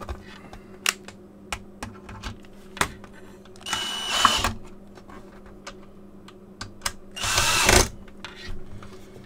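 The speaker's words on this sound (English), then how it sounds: "Alright, so I put two screws in there, you heard that." Two screws are driven into a Bose SoundDock 10 during reassembly: two short, close whirring bursts of a driver, surrounded by scattered light clicks and taps, with no talking.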